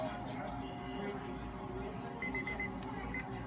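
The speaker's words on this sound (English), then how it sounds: "Now we're gonna start the timer for 1 minute." A countdown timer goes off with a short series of thin electronic beeps near the end of a one-minute wait during a dental superfloss treatment with silver diamine fluoride, sounding over a steady low room hum.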